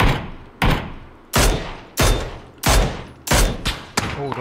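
Gunfire in PlayerUnknown's Battlegrounds cracks in seven sharp shots spaced roughly every half to three quarters of a second, loud and close, each followed by a decaying echo.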